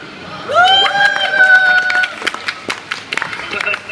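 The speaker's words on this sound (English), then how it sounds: "Big round of applause, please, for Victoria Iserman." Audience applause and cheering at a vegan festival rise under an announcer's raised voice, with scattered claps continuing as the voice drops away.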